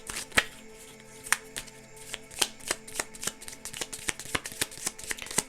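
A tarot deck is shuffled close up in a fast run of crisp, regular riffling snaps and slaps, heard alone for several seconds.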